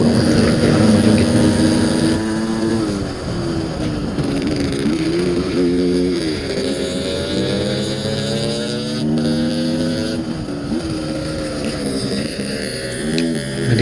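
Motorcycle ridden along a rough, bad road near Singkawang, engine droning steadily with wavering revs as it weaves, loud and close throughout with constant road and wind noise.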